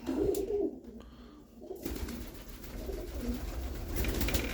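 Low, soft cooing of pigeons in a pigeon loft repeats through the clip over a steady background rumble, fairly close and moderately loud.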